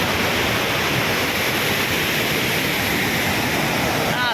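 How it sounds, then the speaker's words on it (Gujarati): The Shetrunji dam near Palitana overflows, its waterfall roaring as a loud, steady, close wash of rushing water that holds without a break from start to end. "હા ધોધ પડી રહ્યો છે અત્યારે જોરદાર."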